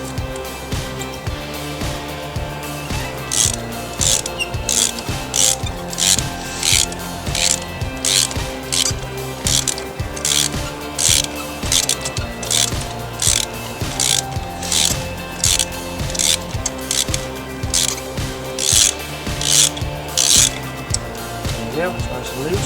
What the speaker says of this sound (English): Now we just need to undo each socket, undo every spark plug.